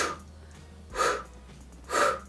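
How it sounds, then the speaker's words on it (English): Taekwondo breathing practice: two sharp, forceful exhales about a second apart, close and clear against a quiet room. "The breathing is in the state of exhaling at a critical moment"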